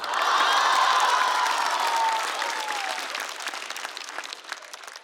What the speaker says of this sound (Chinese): 掌声再次送给陈明飞。